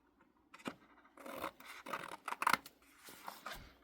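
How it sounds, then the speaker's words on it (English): Scissors cut through paper from an old planner being turned into a junk journal, with a series of close, crisp snips and rustles over a few seconds. "we have to come over here and just cut it off."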